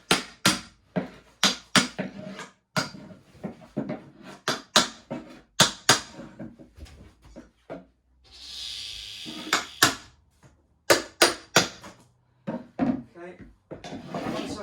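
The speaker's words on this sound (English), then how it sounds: "everywhere where there's a screw, I tap it like that" A chipboard floor under rolled-back carpet is tapped with a tool over each screw and nail, giving a steady series of sharp, close knocks in quick clusters, with a brief rasping scrape midway and no talking.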